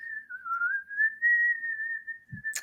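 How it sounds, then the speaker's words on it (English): During a Flyers hockey pregame show, one long whistled note is held steadily for about three seconds at a fairly even pitch with a slight wobble, then ends with a soft thump and click. "that's a 3-second whistle"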